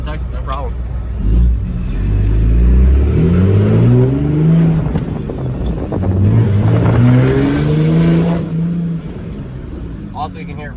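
A heavy 700-horsepower mega cab dually pickup engine revs hard twice, its pitch climbing and dropping, loud and nearby, idling roughly between the revs.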